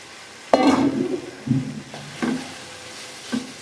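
Cauliflower pieces dropped into hot oil and stirred, giving a sharp initial splash of sizzle followed by several shorter bursts of frying and scraping, close and moderately loud with no talk.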